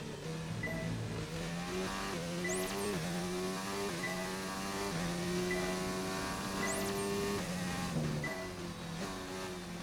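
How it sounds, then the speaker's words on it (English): A Formula 1 car in F1 2019 at the Austrian Grand Prix, its engine whining loudly and steadily before dropping in pitch through downshifts under heavy braking into turn 3. "heavy braking into turn 3 now"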